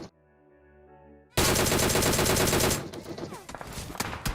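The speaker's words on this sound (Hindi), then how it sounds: "पीछे कहीं ओपन से गोलियां चलने लग जाती हैं" A calm stretch of tonal music is cut off by a sudden, loud, dense burst of automatic gunfire in a PUBG-style battle royale game, which then thins into scattered, uneven shots.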